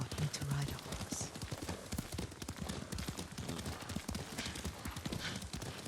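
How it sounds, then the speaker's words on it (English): Horse hooves clip-clop steadily through a ride in the Ghost of Tsushima video game, with a brief whinny near the start and voices talking over the rhythmic footfalls. "Lord Sakai taught me to ride a horse"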